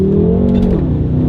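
A 600-horsepower rear-wheel-drive car weighing almost 4,400 pounds accelerates hard through a dual-clutch gearbox, its loud, close engine note climbing steadily, then dropping briefly at a quick upshift before pulling on.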